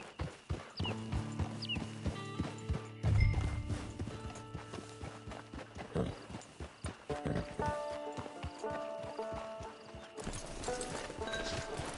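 In Red Dead Redemption 2, a horse's hooves clip-clop steadily at a walk with a brief whinny. The game's musical tones and ambience sit underneath, and the hoofbeats stay fairly close throughout.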